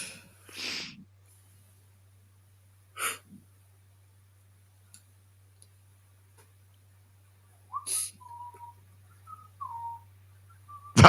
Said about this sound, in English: You're whistling.